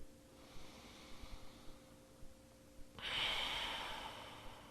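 Slow, controlled breathing during a yoga stretch for anxiety: soft quiet breaths near the mic, then a long, louder airy exhale that rises and fades gradually, with no talking.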